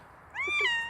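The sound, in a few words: cat meow from kitty poster in video game Subnautica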